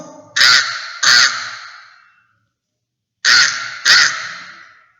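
A crow caws twice, loud and harsh. After a silent gap it caws another pair with the same rhythm, each call ringing out briefly.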